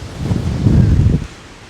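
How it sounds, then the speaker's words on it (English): A brief, strong wind gust hits an outdoor campsite on a Victorian royal estate, rising into a loud rustling roar against the microphone and then dropping away. "That wind is insane."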